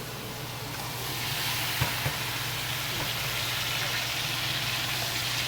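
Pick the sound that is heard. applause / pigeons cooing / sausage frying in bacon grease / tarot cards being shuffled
sausage frying in bacon grease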